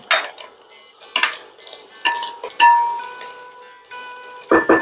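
Sliced carrot strips tossed into hot oil for methi pulao, giving a steady sizzle with repeated scraping and stirring knocks of a spoon against the pan, plus a few metallic clinks.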